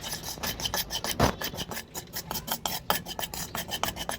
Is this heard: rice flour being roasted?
yes